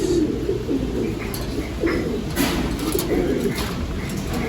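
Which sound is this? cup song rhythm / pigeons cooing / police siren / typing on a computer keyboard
pigeons cooing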